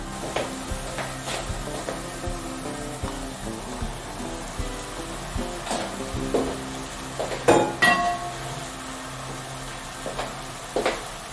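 Chicken and garlic hit a pan of mushrooms for risotto and sizzle steadily. A spoon knocks and scrapes against the pan at intervals, close and clear.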